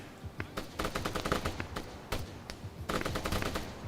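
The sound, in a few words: gunfire from AI soldiers in video game ArmA 3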